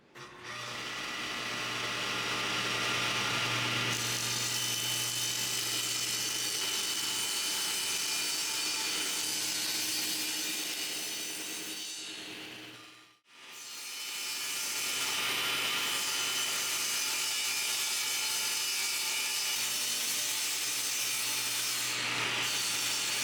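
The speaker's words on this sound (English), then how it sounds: "I'm squaring up the edges here with the table saw so everything's a nice clean cut" Table saw squaring up particle board edges: two long, loud, steady cuts with a harsh whirring roar, split by a brief quiet pause in the middle, no voices.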